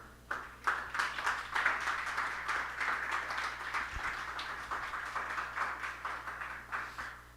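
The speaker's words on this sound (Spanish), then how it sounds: "Denle un aplauso a la madre" A congregation at a Marian devotion teaching applauds, with many hands clapping in a steady, moderately distant round that holds for several seconds.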